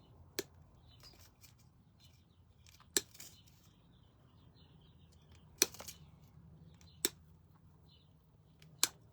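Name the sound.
cutting pieces individually with scissors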